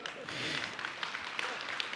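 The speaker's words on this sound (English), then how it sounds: "Let's give applause." An audience at a data center summit gives a brief burst of applause, faint and distant, as a scattered patter of clapping.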